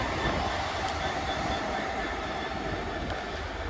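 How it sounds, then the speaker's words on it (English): A lone Class 66 freight locomotive, 66727, runs light through a station without wagons, giving a steady, loud rumble with rail noise that holds throughout and has no talk over it. "here comes East Midlands Gateway going down to Bestcott. It's just a right locomotive on its own."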